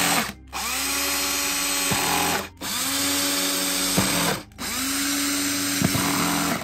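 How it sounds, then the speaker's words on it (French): A cordless drill set to minimum torque drives screws into a Flexispot E7 desk frame in three long whirring bursts, each winding up and cutting off, with short pauses between them. "Toujours on visse avec le limiteur de couple au minimum pour pas être emmerdé"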